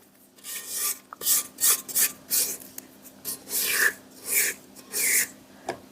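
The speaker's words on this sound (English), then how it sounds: "Now I'm just going to give the sides a scrape, because I want to be sure everything gets down in there." A spatula scrapes around the sides of a mixing bowl of butter, sugar and vanilla for pumpkin snickerdoodle dough, making close, rasping strokes in a steady rhythm of about a dozen short bursts, with no talking.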